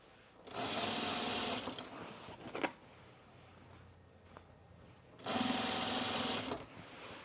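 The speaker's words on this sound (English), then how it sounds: "We're going to edge stitch it." Sewing machine edge stitching the inside of a cloth apron, two steady bursts of fast whirring stitches, close and loud, separated by a quieter pause with a small click.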